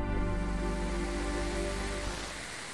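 Saturn's radio emissions recorded by the Cassini spacecraft, pitch-shifted down into the audible range, form a dense, low, rumbling roar with faint tonal bands, steady and then trailing off, with no voices.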